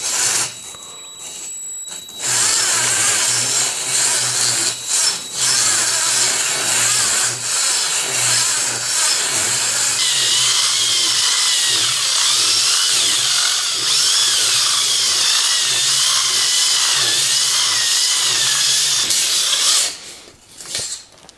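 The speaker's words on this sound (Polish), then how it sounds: "w tej wiertarce są za duże obroty" A power drill spins a drill-mounted cylinder hone inside an engine cylinder. After a brief start, a loud, continuous whirring grind runs for about twenty seconds and then cuts off.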